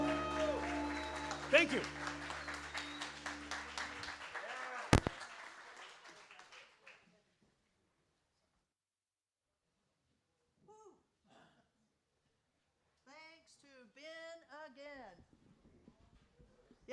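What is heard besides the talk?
audience applause after a speech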